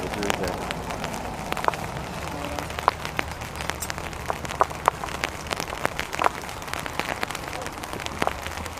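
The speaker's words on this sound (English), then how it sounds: "This rain's definitely made it interesting." Rain falls on a golf course during a tournament, a steady patter with scattered sharp drops and crackles throughout, while people talk faintly in the background.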